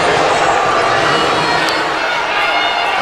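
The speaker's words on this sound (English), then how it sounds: "when you hear the crowd booing" A basketball crowd boos the visiting Texas A&M women's team in a road game at Vanderbilt, a dense, loud, continuous roar of voices filling the arena.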